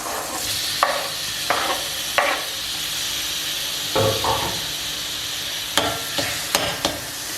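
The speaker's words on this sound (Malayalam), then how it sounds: "ശേഷം ഒരു 2 മീഡിയം സൈസ് തക്കാളി ചെറുതായി അരിഞ്ഞിട്ട് നമുക്ക് അതും കൂടി ഇട്ട് കൊടുക്കാം." Two medium-sized chopped tomatoes sizzle steadily in a hot pan while a spoon scrapes and stirs them in bursts, with a constant frying hiss and no voices.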